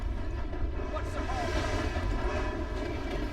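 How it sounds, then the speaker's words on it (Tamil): A train in Red Dead Redemption 2 rumbles close and loud, a dense steady roar with droning tones that holds for the whole stretch without letup. "ஏய் ட்ரெயின் வருதுங்க, பட்றா."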